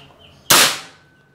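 A single sharp shot from a Bocap Predator Tactical SAS 500cc air rifle cracks out, loud and close, with a brief decaying tail and no voices.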